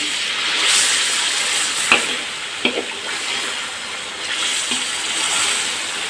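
Mashed boiled chickpeas being stirred and mixed in a pot for Lahori chana masala, a steady hissing sizzle with a couple of distinct scraping clinks of the spoon against the pot, close by and without speech.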